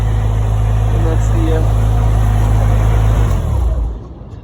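A Ferrari Testarossa's engine rumbles loud and close at a supercar show, holding a steady deep idle before the note falls away and fades near the end.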